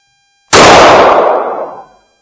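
A Kel Tec PF9 9mm pistol with a 3.1-inch barrel fires a single Remington 147-grain standard-pressure jacketed hollow point round: one loud, close, sharp crack that rings out and fades over about a second and a half, with no talking.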